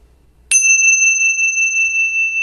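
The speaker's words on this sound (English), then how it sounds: "And we'll pause and listen for the bell." A single meditation bell struck once, its bright clear tone ringing out and sustaining steadily as it slowly fades in a quiet room, with no other sounds.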